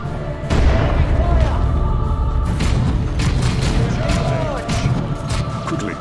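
Battle in Dawn of War 2 Chaos Rising: loud bursts of gunfire and heavy booming explosions in quick irregular succession, with shouted voices over the din.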